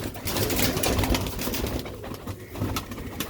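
Pigeons, Sialkoti chhat wale and kali wale birds, coo in soft repeated throaty pulses close by, with some rustling and faint background noise and no talking.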